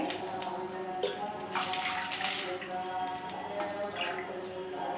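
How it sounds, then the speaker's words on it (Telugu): Three cups of water poured into a cooking pot while making payasam, a steady splashing rush that runs the whole time at close range with no pauses. "ఇదే గిన్నెలో త్రీ కప్స్ వాటర్ వేసుకుందామండి"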